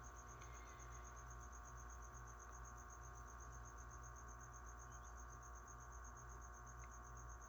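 Crickets kept in a container at night chirp in a steady, continuous high trill, faint and close, with no voices.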